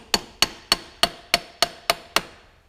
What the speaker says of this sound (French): petit coup de maillet, hop, on lève